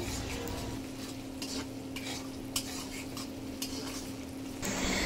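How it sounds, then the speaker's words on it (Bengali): Ginger-garlic paste fries in a pan with a steady sizzle while a spatula stirs it, scraping and knocking now and then, close up and continuous, for a Bengali rui fish kalia. "এবার আদা রসুনের কাঁচা গন্ধটা না চলে যাওয়া পর্যন্ত আমি একটু ভালোভাবে কষিয়ে নিব।"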